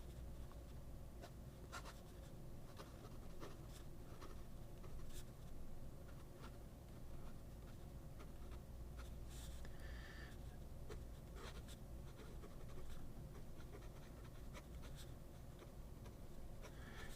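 A PenBBS 355 fountain pen nib scratches steadily across paper, a faint continuous writing rustle with small stroke-like ticks, close and quiet throughout.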